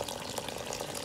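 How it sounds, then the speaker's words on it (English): Wild bird seed grain rinsed under warm water from a small kitchen sprayer, a steady close hiss of spraying water splashing over the grain, brief and continuous. "When I'm rinsing, I like to use warm water and this nice little sprayer."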